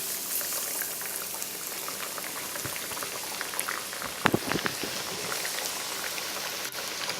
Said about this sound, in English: The next step after coating our tilapia is placing it down in the oil and letting it fry